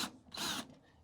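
A power drill briefly whirs as it starts a screw into a Whirlpool front-load laundry pedestal, one short close burst between quieter handling noise.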